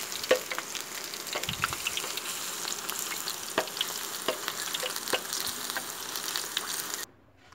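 Peanut rempeyek crackers fry in hot oil, giving a steady, dense sizzle with scattered pops and crackles that carries on for several seconds up close, then suddenly cuts off; nobody speaks.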